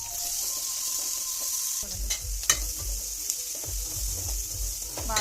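Chopped onion and green chillies frying in oil in a pan make a steady close sizzle, with a spoon stirring and scraping in short repeated strokes.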